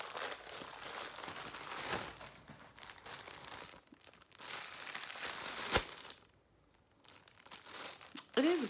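Close, crisp crinkling and tearing of plastic wrapping as a soft parcel holding a pillowcase is opened, in bursts with a brief quiet gap near the end.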